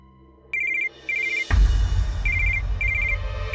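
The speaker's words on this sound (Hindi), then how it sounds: "इस वक्त वो देवराज समायरा को फोन किया होगा, हमेशा इसी वक्त करता है, उसी का फोन होगा" A landline telephone rings in electronic trilled bursts, two short rings before a loud thump and two more after, clear and close over low room noise.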